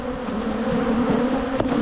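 Honey bees buzz around a beekeeper's face while a struggling nuc is being worked, a dense continuous hum close to the ears with small shifts as individual bees pass.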